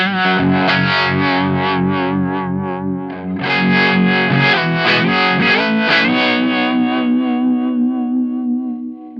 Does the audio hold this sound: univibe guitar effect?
yes